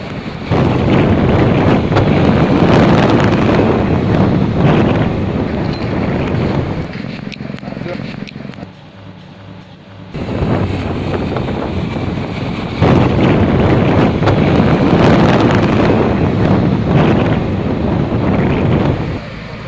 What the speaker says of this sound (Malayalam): അപ്പോൾ നല്ല ഫുൾ ടൈം എപ്പോഴും ഇങ്ങനെ കാറ്റടിച്ചുകൊണ്ടിരിക്കും